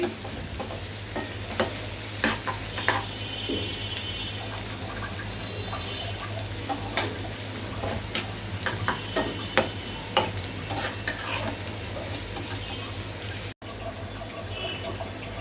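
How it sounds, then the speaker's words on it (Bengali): Paste fries with plenty of chopped garlic and onion, giving a continuous soft sizzle with a low steady hum under it and scattered clinks and scrapes of stirring throughout. "রসুন পেঁয়াজ কুচি দিয়ে আমি পেস্টটা ভেজে নিব। এভাবে নেড়ে চেড়ে দিচ্ছি।"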